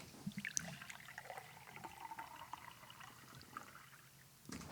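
Liquid pours steadily into a big glass as a sound effect within a song, a long continuous trickle at moderate level with a brief crack near the start and a louder hit at the end.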